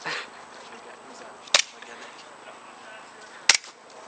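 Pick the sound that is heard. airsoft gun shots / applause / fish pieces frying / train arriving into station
airsoft gun shots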